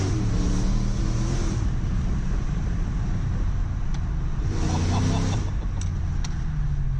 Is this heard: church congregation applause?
no